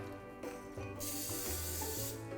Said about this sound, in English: I'm gonna spray it with a little nonstick spray.